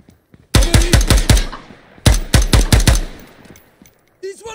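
Automatic gunfire in the Ground Branch tactical shooter game, two loud bursts of rapid, closely spaced shots separated by a brief pause, with a short voice near the end.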